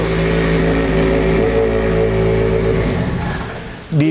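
A modified Mitsubishi Xpander engine drones loudly at high revs with a steady exhaust roar, then drops off and ends in a sharp exhaust crackle or pop, recorded close up.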